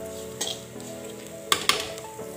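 Onion and potato mixture with asafoetida being fried and mixed in a pan, a low sizzle broken by a few spoon scrapes and two close sharp knocks against the pan.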